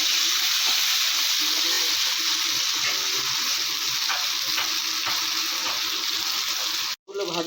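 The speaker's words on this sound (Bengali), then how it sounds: "বেগুনগুলো একটু ভেজে নিই।" Eggplant pieces fry in oil with turmeric and salt, a continuous close sizzle with occasional soft stirring clicks, cut off by a sudden brief silence near the end.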